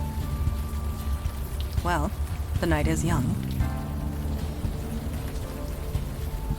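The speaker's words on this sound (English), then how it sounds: "Still raining." Steady rain falls through a nighttime city street near Astor Place in the game Unavowed, a constant wash of noise beneath a brief spoken line and a faint background music tone.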